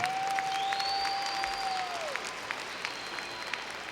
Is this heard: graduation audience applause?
yes